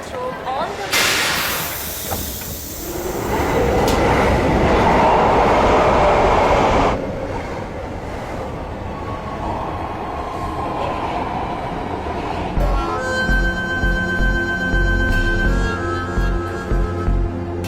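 Metro train running on its line, a steady rumbling roar with hiss that swells loudly for several seconds and then settles into a continuous rolling drone. Tonal hums and whines appear near the end, and voices are heard over it in places.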